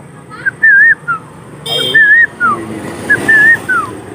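A man whistles short warbling phrases that imitate a parrot call, several bursts with brief gaps, close and clear, with a short snatch of another voice in the middle.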